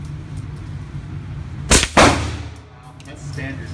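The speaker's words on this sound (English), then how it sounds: "people in another lane shooting right now as well." Two sharp gunshots from a neighbouring lane at an indoor shooting range, loud with a booming reverberant decay, heard against steady room hum.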